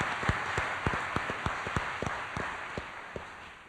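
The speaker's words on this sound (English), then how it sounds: "a little clapping at the beginning here is good" An audience at a congressional debate applauds, with scattered, fairly sparse claps over a steady background hiss. The clapping is distant and moderate in level and thins out toward the end.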